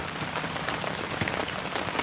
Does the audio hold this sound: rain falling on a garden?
yes